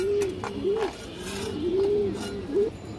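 A pair of pigeons, male and female, coo nearby in repeated rising-and-falling calls, several distinct coos spaced over a few seconds against a quiet background.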